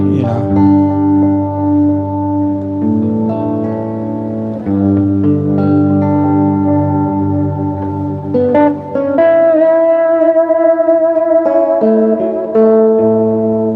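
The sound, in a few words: echo effect from a guitar effects pedal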